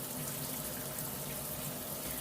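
Hot water running steadily from a tap into a sink while wool fleece is washed, a constant close, even rush with no talk.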